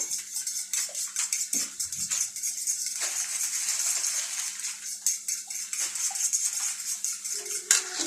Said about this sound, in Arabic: دلوقتي هيبقى انا حطيت الكمون والفلفل الاسمر وابدا اقلب فيهم كده